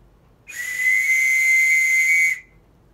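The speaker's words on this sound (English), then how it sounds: "Yeah, typical whistle." An antique bicycle whistle gives a single sustained shrill blast, loud and steady for about two seconds with a breathy hiss, starting and stopping abruptly.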